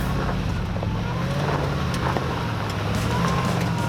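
A Y62 Nissan Patrol 4x4 with BP-51 suspension drives through a 4x4 park, its steady low engine and road rumble continuous and fairly loud with some wind buffeting the microphone.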